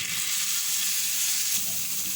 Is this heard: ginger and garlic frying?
yes